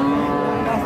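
A calf at a rural cattle market gives a single loud, drawn-out moo close to the listener.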